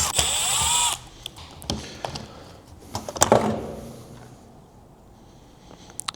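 A power drill removes the screws from an LG washer's drain pump housing, giving a loud whirring burst followed by scattered clicks and handling noises as parts are moved close by.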